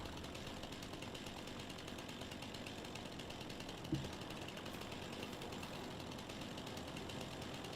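A chainsaw cuts trees in the video game Farming Simulator 25, giving a continuous, even mechanical buzz that runs unbroken, with a single soft thump midway and no talking.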